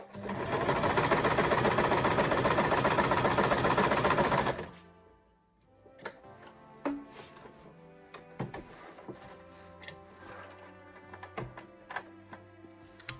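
Sewing machine running steadily for several seconds while stitching a zip into a zippered make-up bag, close and loud, then stopping, followed by quiet clicks and handling sounds of fabric and parts.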